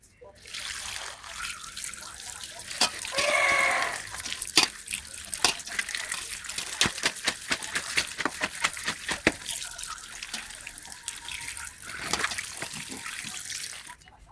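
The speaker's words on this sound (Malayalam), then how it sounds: "ഇനി ഇത് നമുക്ക് നല്ലപോലെ ഒന്ന് കഴുകിയെടുക്കാം" Cauliflower florets get washed under a running tap, a steady splash of water with scattered clatters and knocks as the pieces are handled, continuing without a break.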